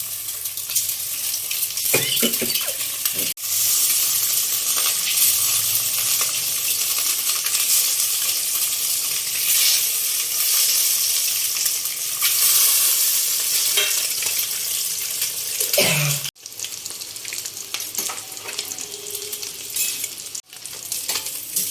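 Steamed egg pieces coated in chilli and turmeric fry in hot oil with a loud, steady sizzle, joined by occasional stirring clinks and a couple of brief dips as the pan is handled.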